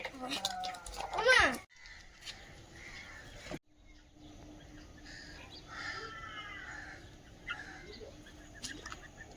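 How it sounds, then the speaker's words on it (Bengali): Bulbuls calling outdoors, with several short chirps and warbling notes in the middle distance over a low steady hum, after a loud burst of talk at the start. "আমরা এই পাখিগুলো বুলবুলি পাখি বলি"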